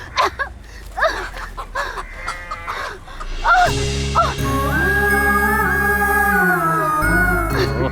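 A rooster clucks and squawks in a series of short, shrill calls close by, then a loud swelling musical score takes over and buries the bird for the rest of the moment.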